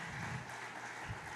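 Congregation clapping inside a church during a worship service, a dense continuous wash of applause from many hands, moderately distant and fairly quiet, lasting briefly.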